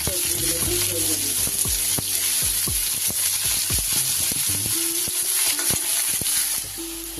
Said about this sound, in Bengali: গাজরের উপর এবার বিনসগুলো দিয়ে খুব ভালো করে আমি সবজিগুলোকে ভেজে দিই